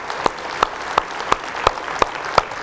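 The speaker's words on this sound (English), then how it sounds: "maybe by applause? Thank you," A church congregation claps during a service, with sharp, evenly spaced claps ringing out close by in a steady beat over a soft room background.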